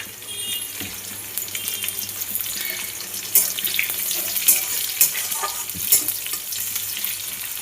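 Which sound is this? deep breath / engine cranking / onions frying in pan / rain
onions frying in pan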